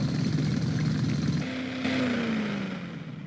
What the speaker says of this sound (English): It's almost as if the drill's jamming.